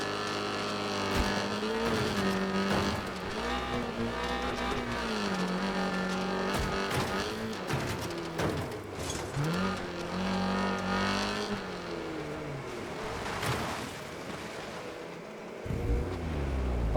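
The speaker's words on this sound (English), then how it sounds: "I'm going to shut up and let you listen to this MX-5" Mazda MX-5 racing in the video game Wreckfest 2: engine revs climbing and dropping through repeated gear changes, loud and close, with tyre and impact noises and a sudden cut near the end.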